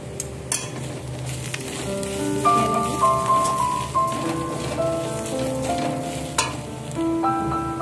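Ground cumin, coriander, dried chilli and turmeric being stirred in a frying pan, a close, steady sizzle with scraping strokes, faint tonal background music running underneath.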